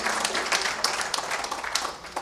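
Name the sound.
applause for the horses and connections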